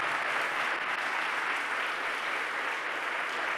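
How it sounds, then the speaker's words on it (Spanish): Church congregation at a Sunday service gives a strong, sustained applause, a dense even wash of many hands clapping at steady volume with no breaks. "Denle un fuerte pero fuerte aplauso a Jesús en esta mañana"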